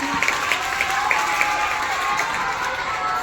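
Classroom audience of schoolchildren applauding a correct answer at a Hindi school quiz competition, steady moderate clapping with a few brighter claps standing out over a continuous background hum.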